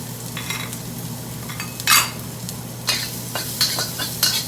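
Minced ginger and garlic stir-fry in a little oil in a hot wok, a close sizzle broken by several bright spatula scrapes and clanks against the metal.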